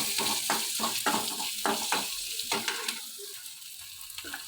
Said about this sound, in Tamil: பெரிய உள்ளி, பெரிய வெங்காயம் நம்ம எடுத்து போட்டு வதக்கிக்கணும்.